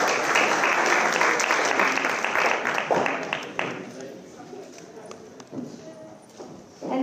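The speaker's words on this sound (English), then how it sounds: "Let's give them a round of applause, everyone." An audience claps in a round of applause at a recognition ceremony, loud and dense at first, then thinning and fading with scattered claps and some talk underneath.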